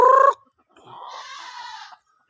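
A white hen gives a brief loud cluck, then a softer drawn-out clucking call follows after a short pause, close by and alone.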